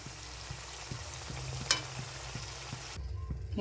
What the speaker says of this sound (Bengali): একটু নাড়াচাড়া করছি।